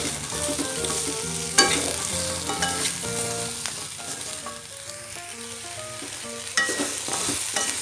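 Tofu stir-fried with chili, salt and spring onions in a pan gives a steady, close sizzle of frying. Music plays over it, and a couple of sharper clatters stand out.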